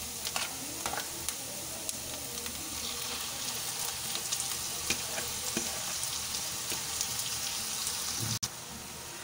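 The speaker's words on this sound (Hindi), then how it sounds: "इसको भी हमने सोते करना है, जस्ट बहुत ज़्यादा फ्राई नहीं करना" Chicken mince sizzles steadily in a pan, a dense continuous frying hiss with occasional stirring clicks and scrapes, close and even throughout.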